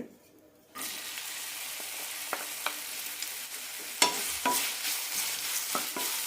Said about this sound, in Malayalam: നന്നായി വഴറ്റിയെടുക്കാം കഷ്ണങ്ങളൊക്കെ ചെറുതായി ഒന്ന് ബ്രൗണായി കിട്ടണം